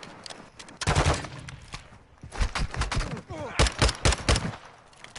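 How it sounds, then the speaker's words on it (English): Gunfire in the video game Call of Duty DMZ: several bursts of rapid shots, loud and close, in clustered volleys with short gaps, with a player's voice briefly audible between them. "I'm just going to shoot him."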